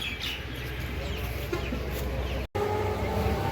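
Local desi chickens cluck at a market stall, a few short clucks rising over a steady crowded-market background hum, with a brief drop-out near the end.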